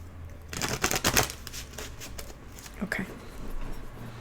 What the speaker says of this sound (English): I want to give this a good shuffle